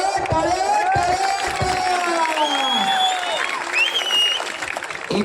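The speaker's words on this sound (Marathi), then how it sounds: "टाळ्या टाळ्या टाळ्या." Crowd at a Balewadi wrestling bout between Sikandar Shaikh and Vishal Bhondu, a dense sustained wash of applause and cheering with scattered shouts and whistles rising over it, loud and continuous throughout.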